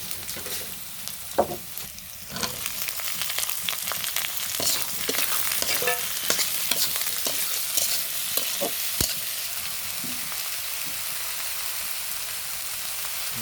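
Onions stirred and sautéed in a pan, a close, constant sizzle with irregular scrapes and clinks of a spatula against the metal.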